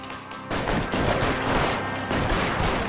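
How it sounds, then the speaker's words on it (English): Sustained automatic gunfire from a BAR rifle in the video game L.A. Noire, a dense continuous burst of heavy rattling shots with booming low end, loud and close throughout. "This guy's got a lot of ammo if he's firing at BAR."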